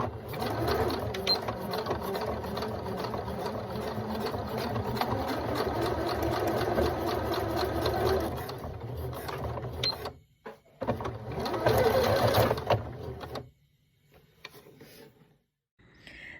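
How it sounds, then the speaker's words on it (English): A sewing machine stitches two securing seams across the end of a fabric strap, running in a steady, continuous mechanical whir for about ten seconds, then stopping briefly and starting again for a short second burst, close and alone. "Then sew 2 seams to secure the strap, about 1/4 inch and 1/2 inch from the raw edge."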